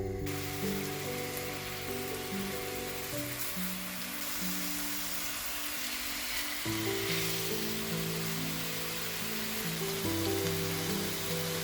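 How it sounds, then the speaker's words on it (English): Ground-meat lula kebab frying in a pan until golden brown, a steady dense sizzle heard up close throughout, with music playing underneath. "I cooked the lula kebab until it turned golden brown"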